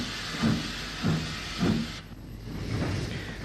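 A GNR 0-6-0 steam locomotive waits at Howth Station before departing for Dublin, giving three or four evenly spaced soft steam chuffs or hisses over a steady background hiss, fairly faint and without speech.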